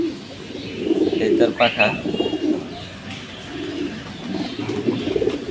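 A male racing pigeon of an Olympiad bloodline coos in a loft, low throaty rolls repeating close by, while a person talks over and between the calls.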